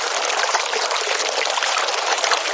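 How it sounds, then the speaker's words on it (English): Steady broadband rush of water flowing in a stream, continuous and fairly loud with no pauses or voices. "You hear the water."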